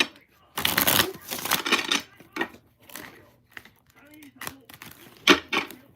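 Tarot cards riffled and shuffled in several brisk bursts, close and crisp, with soft handling noises between them.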